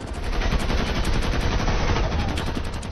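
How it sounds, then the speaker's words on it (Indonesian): Dense, continuous gunfire fills a film scene as mafia gunmen shoot up a wedding venue, with rapid overlapping shots forming an unbroken loud barrage. "para mafia yang langsung mengacaukan tempat tersebut dengan cara menembaki mereka"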